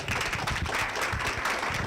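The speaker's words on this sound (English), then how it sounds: "Round of applause for Artie" Audience applause at a community action forum, a dense, even patter of many hands clapping together for the full two seconds, moderately loud and without any voices.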